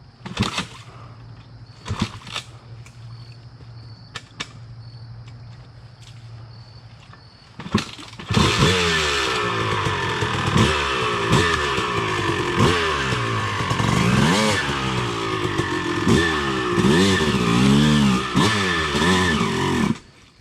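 A Kawasaki KX 85 or Suzuki RM 250 dirt bike engine idles unevenly, then roars into sustained loud revving as it churns stuck in a muddy stream in the woods, pitch rising and falling with the throttle.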